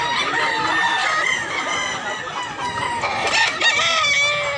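A crowd of gamecocks at a rooster farm crow and cluck over one another nonstop, a dense, loud chorus of overlapping calls with no pause.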